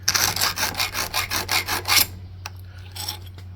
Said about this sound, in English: we're just going to take a round file here and knock that burr out of there